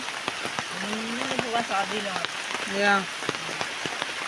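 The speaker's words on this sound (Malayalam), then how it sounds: "രണ്ടു ദിവസമായി മഴ പെയ്യുന്നു" Rain patters steadily with scattered drips and taps close by, while voices talk briefly over it.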